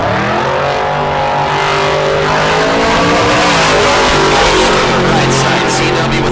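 Drag race cars, a 1955 Chevrolet and a 1987 Firebird, launch at a bracket race with loud roaring engines rising in pitch together, close and overpowering, while an announcer calls the race.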